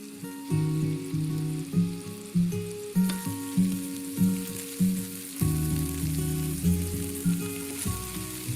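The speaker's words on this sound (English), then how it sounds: "Now the meatballs have all been fried off" Meatballs sizzle in a frying pan with a loud, continuous close hiss of hot fat, and a low tonal rumble pulses beneath it in uneven repeated bursts. No one speaks.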